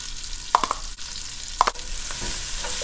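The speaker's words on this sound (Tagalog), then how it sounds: "Igisa na po natin ang ating sibuyas." Onion and garlic sauté in a couple of spoonfuls of oil, a soft continuous sizzle broken by a few sharp clinks of a utensil against the pan, close up and without talking.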